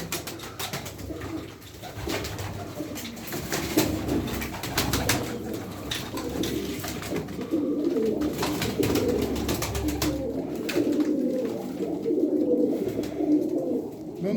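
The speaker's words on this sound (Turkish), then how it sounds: "Abiler kuşlar bunlar." Pigeons in a loft compartment coo continuously and fairly close, overlapping throaty calls with wing rustles and faint background noise, and no talk.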